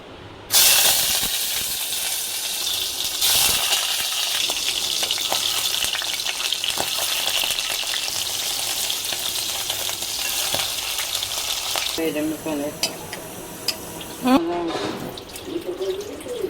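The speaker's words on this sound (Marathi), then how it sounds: "इथं पनीर भाजून घेते, थोडं फ्राय करते पनीरचं." Paneer cubes fry loudly in a pan, a strong steady sizzle heard up close for most of the stretch, then the hiss drops and clattering stirring sounds take over near the end.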